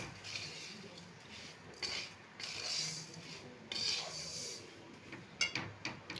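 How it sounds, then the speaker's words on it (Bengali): Semolina stirred in a pan with crushed cardamom and sugar, made into a crumbly sweet sooji with cashews and raisins: repeated scraping, rasping strokes of a spoon against the pan, moderately close, in uneven bursts with no talk. "চিনিটা দিয়ে আবার এটাকে নাড়াচাড়া করব।"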